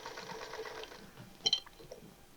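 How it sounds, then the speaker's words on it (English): A Singer Featherweight sewing machine runs briefly after oiling, a quiet, light mechanical whirr with a few soft clicks near the end. "You want to run it a little bit so that the oil has a chance to move into place."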